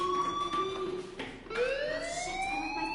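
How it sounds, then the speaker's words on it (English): A fire alarm in the video game Life is Strange wails as a loud, steady electronic siren, its pitch dipping briefly and then sweeping back upward, with no talking over it. "do you hear that fire alarm?"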